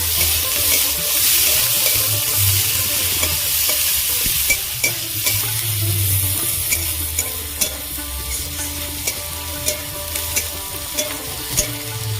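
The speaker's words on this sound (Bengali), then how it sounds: "আদা কুচি কাঁচা লঙ্কা কুচি পেঁয়াজ কুচি একসাথে ভালো করে ভেজে নেবো" Chopped ginger, green chilli and onion fry together in hot oil with a loud, continuous sizzle. In the second half a spatula clicks against the pan at a regular, steady beat.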